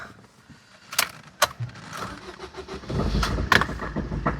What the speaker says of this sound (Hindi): देखिए स्टार्ट मार के आज क्या कहती है गाड़ी।